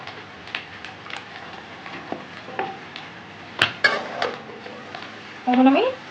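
A utensil stirs snake gourd and egg in a pan, making intermittent clinks and scrapes against the metal, louder near the middle, with a brief voice near the end.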